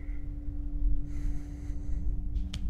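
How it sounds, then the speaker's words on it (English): Eerie creature breathing close behind the player in the horror game Welcome to Kowloon, a soft airy rasp over a low droning hum, ending in a brief sharp snort near the end. "There's something behind me, I hear it breathing on my neck."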